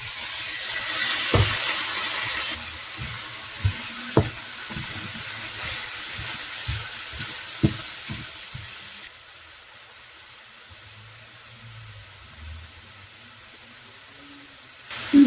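Red onion with red and green peppers frying in a pan: a broad, steady sizzling hiss that fades partway through, with a few sharp clicks of a utensil against the pan.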